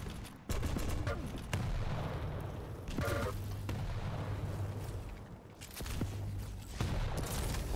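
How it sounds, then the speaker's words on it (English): Weapon fire in a Quake pro duel final, a railgun and lightning gun among it, with rapid crackling bursts and sharp shots layered under excited commentary from a caster. "almost the rail hit, just it flicked a little bit too far to hit the wall instead of Cypher"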